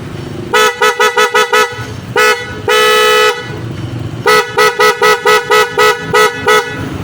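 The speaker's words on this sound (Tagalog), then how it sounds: "Stock horn." Loud, close Honda ADV 160 motorcycle stock horn honking in rapid bursts of short toots, with one longer sustained blast in between and another run of quick beeps after.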